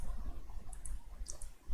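A few quick, faint clicks of a computer mouse, spaced irregularly over a low background hum.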